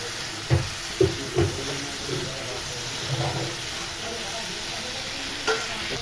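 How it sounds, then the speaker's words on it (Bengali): Prawns (bagda chingri) frying in oil in a pan for a dopiyaja curry, stirred with a few distinct scraping clinks over a steady sizzle that carries through the whole stretch, close and moderately loud. "মাছটা ভালোভাবে কষিয়ে গিয়েছে তেল উঠে গিয়েছে এবার একটু নাড়াচাড়া করবো"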